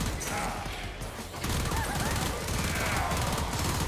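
Rapid, steady automatic gunfire from a weapon in Warframe, loud and continuous with dense mechanical clatter and a brief dip before the volley picks up again.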